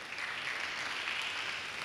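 Steady applause from an audience at a talk on human evolution, a brief, even wash of clapping at moderate level with no voices over it.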